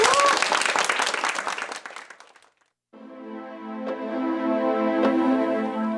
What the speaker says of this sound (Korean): 다시 한번 선생님 박수 한번 보내주십시오.